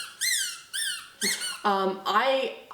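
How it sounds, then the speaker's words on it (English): A squeaky dog toy gives five loud, close squeaks in a rough rhythm, the later ones lower and more honking, with no talk over them. "I don't know if there's like officially a rule against squeaky toys in Barn Hunt."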